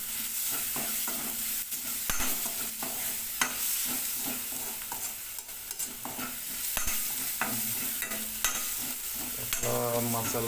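Tomato and coriander masala frying for a katla fish curry, sizzling steadily in a pan with frequent stirring scrapes and clinks of a spoon throughout, fairly close and continuous, no talking.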